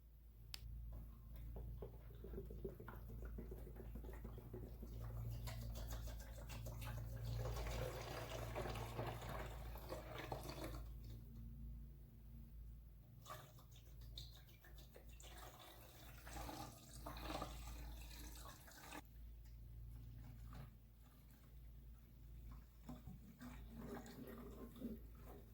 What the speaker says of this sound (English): let's pour in this Evapo-Rust and see how much